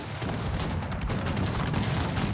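Musket volleys crackle in the Cossacks 3 strategy game during a Ukrainian campaign battle, a dense burst of overlapping shots filling a couple of seconds without any voice.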